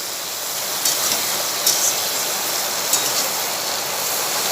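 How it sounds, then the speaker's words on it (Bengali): Soybean chunks added to a pan of frying salted potatoes sizzle in a loud, steady hiss, with a few brief spits and crackles breaking through. "এই যে সোয়াবিন দিয়ে দিলাম,"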